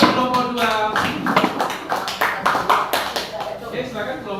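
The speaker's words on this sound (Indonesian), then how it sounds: "tepuk tangan untuk kelompok 2." Vocational classroom students clap for a presenting group, a steady run of close, scattered hand claps lasting several seconds while a voice speaks over them.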